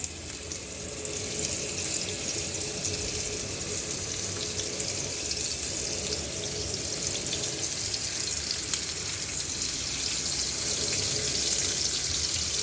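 Rui fish sizzles steadily in a hot pan, a dense, even hiss that holds at the same level for the whole stretch, with no voices over it.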